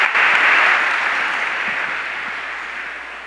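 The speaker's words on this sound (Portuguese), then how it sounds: "A eles uma salva de palmas." A church congregation claps together in a dense burst of applause that starts loud and gradually thins and fades over a few seconds.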